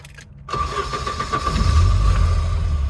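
A 1984 Volvo 240 engine runs near at a low idle while crawling in first gear, a steady rumble swelling slightly as a touch of gas is given after a brief quiet start; no speech.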